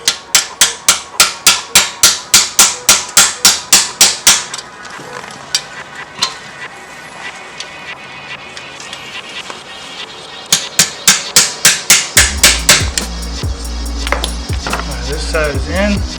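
A rear main seal is tapped into place on a 1.6 Miata with a rapid series of sharp, loud metallic hammer taps, a quieter stretch in between, then another burst of taps over a low rumble.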